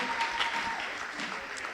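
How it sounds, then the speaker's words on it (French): A church congregation applauding together, a faint, steady patter of many hands clapping at a distance, with no voices over it. "J'aimerais maintenant qu'on acclame la parole."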